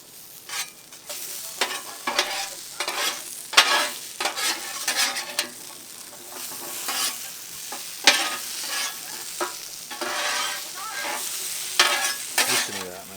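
Smashburgers sizzle on an outdoor Blackstone griddle in windy weather, a loud steady crackle with repeated sharp scraping and pressing bursts of the spatula throughout, with no voices.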